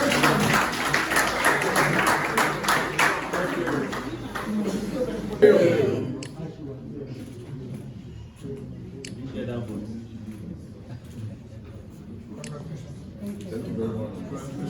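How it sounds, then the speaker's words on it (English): Applause from an audience fills the first several seconds, then fades out as a voice begins speaking. "Please, one more time, can we give you a round of applause?"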